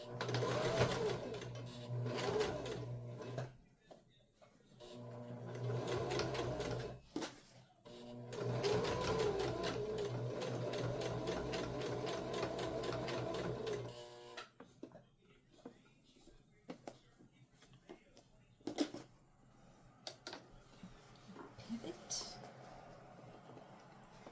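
Sewing machine stitching a pocket onto a bag's lining in bursts, its quick rhythmic whir starting and stopping several times, close and clear, with quiet handling sounds and a few soft words in the pauses.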